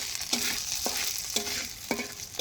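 Leafy greens fry in a pan with a steady hiss of sizzling oil, broken by four evenly spaced scrapes and knocks of a spatula as they are turned.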